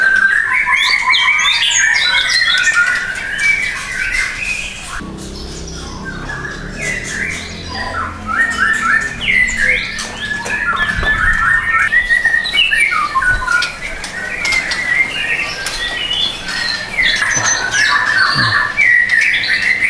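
Songbirds in a bird-keeping collection chirp, whistle and squawk almost without pause, loud and close, with overlapping trills and sharp calls that briefly thin out before building again.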